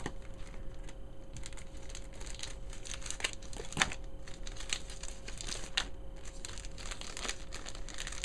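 Small self-adhesive clear plastic envelopes, about two inches square, being handled up close, giving soft crinkles and light crisp clicks and rustles spread over several seconds against steady background hiss.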